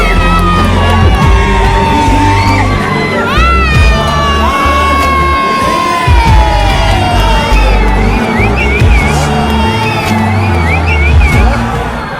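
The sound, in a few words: huge crowd screaming and cheering Vijay's name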